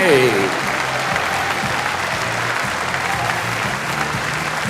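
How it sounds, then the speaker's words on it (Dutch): Audience at a Dutch studbook stallion inspection claps along in time to music, a steady rhythmic clapping under a lively hall crowd for a 21-year-old stallion being presented. "En dan klappen we even mee op de maat van de muziek voor Reinder 452."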